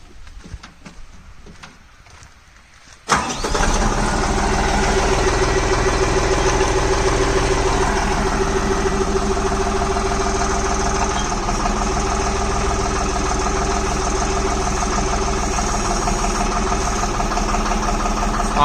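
A tractor fitted with a hydraulic power lift jack starts after a few seconds of quiet outdoor ambience, then settles into a loud, steady diesel idle with a rhythmic knocking beat, with birds faintly audible before the start.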